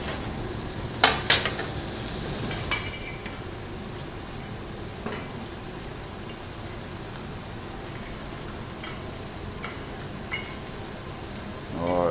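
Guanciale sweating in a pan for spaghetti carbonara gives a soft, steady sizzle with a few clinks of a utensil early on, fairly quiet throughout.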